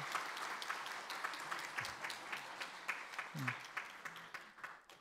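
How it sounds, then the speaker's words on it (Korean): A church congregation claps, a brisk scattering of hand claps that swells and then tapers off, with a brief murmur of voices. "박수 한번."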